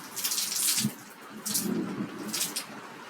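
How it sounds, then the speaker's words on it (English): Water pouring off an umbrella overhead in uneven bursts, a splashy running stream that swells and fades several times, close and steady with no voices. "There's water coming off the umbrella up there."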